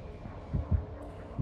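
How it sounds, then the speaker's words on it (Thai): Killer's approaching heartbeat in the video game Dead by Daylight, two deep, muffled thumps in quick succession over a low background hum. "มันมาแล้วมีเสียงตึกตักตึกตัก"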